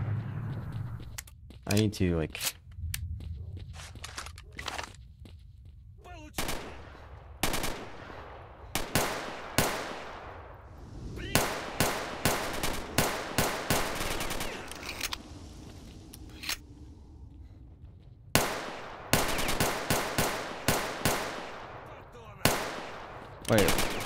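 Gunfire in the video game STALKER: Shadow of Chornobyl, loud bursts of automatic fire and single shots in irregular clusters with quiet gaps between, a player's voice talking briefly over the action.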